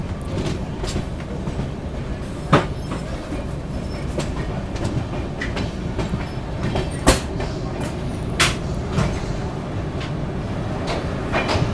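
The CR Rajdhani Express (22222), heard from inside a First AC coach, rolls into Agra Cantt station with a steady rumble punctuated by irregular clickety-clack knocks over rail joints; no one talks.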